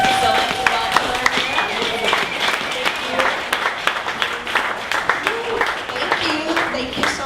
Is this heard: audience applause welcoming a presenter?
yes